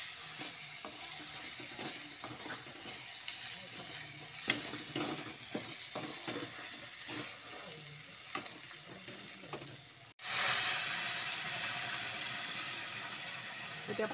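Flour halwa frying in a pan with dry fruits, bay leaf and cardamom, giving a steady close sizzle with stirring scrapes, then a sudden louder hissing burst of steam that slowly fades.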